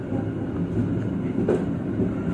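Passenger train pulling out of Sepanjang station on a newly double-tracked line, heard from inside as a steady loud rumble with a faint clickety rhythm, no voices.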